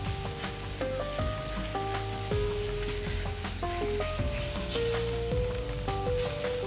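Araignée de boeuf, a cut of beef, searing in a hot frying pan: a steady, close hiss of sizzling fat runs throughout, with melodic background music playing over it.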